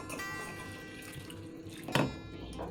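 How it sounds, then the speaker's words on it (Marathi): Running tap water splashes into a vessel of lentils, steady and close, with a sharper slosh near the end as the grains are swirled; no one speaks. "आता खळखळ पाण्याने स्वच्छ धुवून घेऊया आपण"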